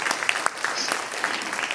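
An audience at a fashion trend event applauds a designer in a short, steady burst of many hands clapping at moderate volume, with a few sharper individual claps standing out.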